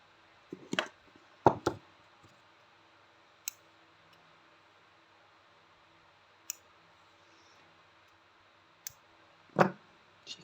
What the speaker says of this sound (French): J'ai cru que mon ciseau coupait plus.